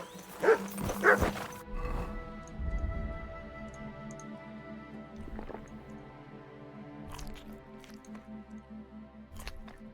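A dog in the video game Kingdom Come Deliverance II lets out a quick burst of barks at the start, followed by quieter ambient game sounds and a few faint clicks.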